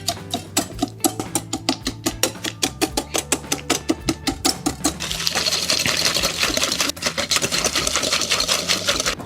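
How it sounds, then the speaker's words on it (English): Caesar deviled egg filling being whisked with a rapid, even rattling of beats, then a denser continuous whirring blend partway through, loud and close with no talking. "now, ladies and gentlemen, it's time to whisk."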